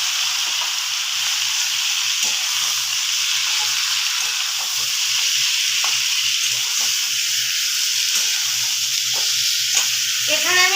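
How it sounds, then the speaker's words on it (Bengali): Chicken pieces fry in hot ghee with a loud, continuous sizzle and hiss, close up, and faint clicks of stirring come through the steady crackle. "মাংসগুলো ঘিয়ের মধ্যে দিয়ে ভেজে নেব"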